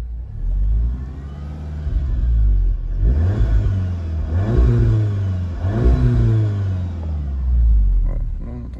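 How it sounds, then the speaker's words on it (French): Volkswagen Golf 7R with 310 horsepower starting up, then revved several times in quick blips, each rising and falling over a deep idle, loud and close with no talk. "Faire un petit démarrage, on va démarrer la voiture."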